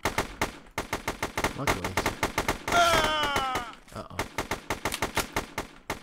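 Rapid gunfire from a video game pistol, a fast regular string of sharp shots close up running through most of the stretch with a short burst of other game effects in the middle, while someone briefly talks.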